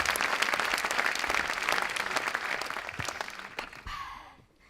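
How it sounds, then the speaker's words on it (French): Audience applause fills a French awards ceremony for a snow-themed prize, a dense sustained clapping that fades out near the end. "On peut les applaudir, merci beaucoup."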